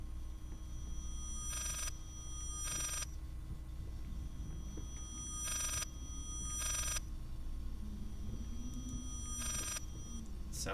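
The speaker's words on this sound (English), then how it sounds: "Sounds like almost a phone." A telephone ringing in the horror game Layers of Fear: faint double bursts of ringing repeat three times at an even pace over a low, steady ambient hum, with no voices.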